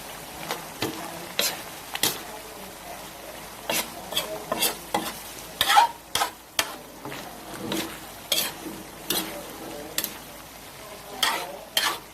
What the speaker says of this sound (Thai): ผัดเผ็ดหมูป่าพริกแกงใต้วันนี้